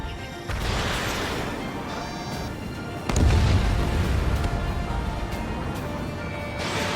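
An enemy aircraft blows up in the Ace Combat 7 flight game, a loud explosion that booms in and rumbles heavily over a dense, continuous roar of jet and battle noise, with no voices.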